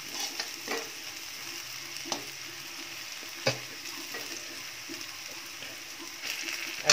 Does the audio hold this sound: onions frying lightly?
yes